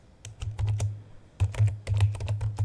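Keys on a computer keyboard clatter as a command is typed, quick close clicks in two bursts split by a brief pause, then a final flurry, with no talking.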